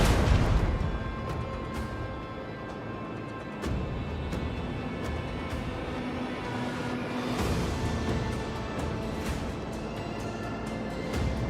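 A macro cannon volley from a starship in Rogue Trader erupts in a series of deep booms and sharp cracks over a sustained rumbling bed, shots landing in irregular bursts across the span.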